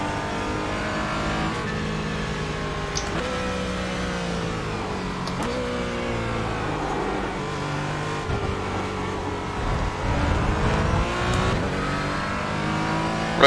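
A GT3 race car in the iRacing sim revs and climbs through gears in a steady, loud engine drone across the whole stretch, with pitch sweeps on upshifts and a few brief spikes near the end.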